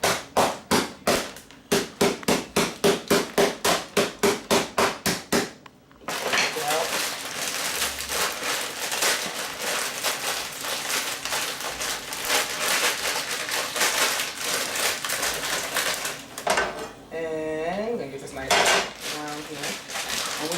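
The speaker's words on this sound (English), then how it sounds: "this is just plain old Idaho Ore-Ida fries. I'm gonna break this up a little bit." Ore-Ida hash browns are broken up in a pan with a utensil: a fast run of sharp, evenly spaced metallic clacks, then a steady scraping and sizzling clatter that goes on under a talking voice.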